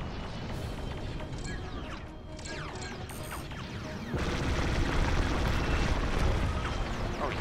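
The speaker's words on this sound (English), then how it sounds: "God, I love these cannons." Rapid spaceship cannon fire in the Star Wars: Squadrons video game, a dense steady barrage with booming impacts that grows louder partway through, under game audio.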